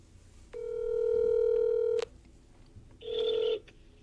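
Telephone dialing tones heard over a speakerphone: one long steady beep of about a second and a half, a short pause, then a second, shorter tone.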